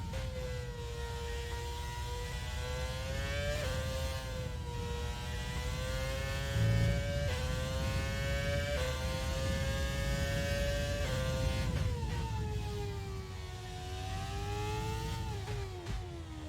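A Formula One car engine in the F1 2020 racing game on Xbox One X, a high, whining engine note that climbs through the revs, drops at each gear shift, and climbs again, steady and alone.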